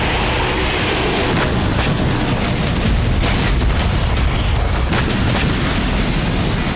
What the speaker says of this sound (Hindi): इसराइली बम गिरने के बाद इस जगह लगातार धमाके हो रहे हैं, एक के बाद एक विस्फोट से आग भड़क रही है।